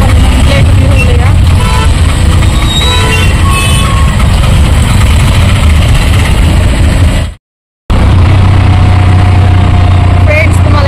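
Heavy traffic jam heard from inside an auto-rickshaw, with idling engines rumbling loudly, scattered horn toots, and people talking throughout, cut by a brief dropout of silence.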